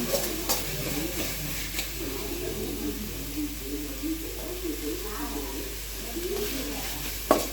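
A spoon stirring Maggi masala powder into egg noodles in a hot pan, with soft scraping and a steady sizzle, close and continuous, and a bird cooing in the background.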